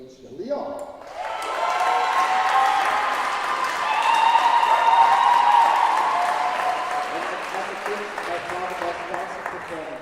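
After a moment of near quiet, an audience at the EGCA Women's Champions League finale awards ceremony breaks into broad applause, with tonal voices or music ringing over it and a gradual fade.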